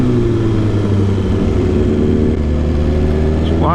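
Motorcycles at a busy bike meetup, where riders pull wheelies. Loud, continuous engine roar close by keeps a steady drone and rises sharply in pitch near the end as one revs.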